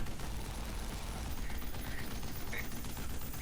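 Movie gunfire from the film Prince, a dense, unbroken barrage of shots that blurs into one steady roar of noise for the whole stretch, with no voices on top.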